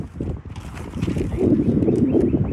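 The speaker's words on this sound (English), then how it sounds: "it's getting so windy" Strong outdoor wind buffets the microphone in a steady low rumble that swells louder in the second half, with no speech over it.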